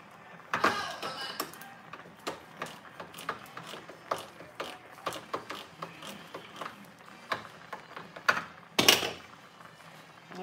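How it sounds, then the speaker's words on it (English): Cans being opened with a manual can opener for arroz con leche, giving a close run of repeated ratcheting clicks and crunches over about ten seconds, with a sharper burst near the end. "so I'm gonna open my cans"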